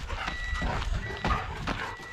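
A dog barks and whines near a truck, giving several short, loud yelps close to the listener against a noisy outdoor background.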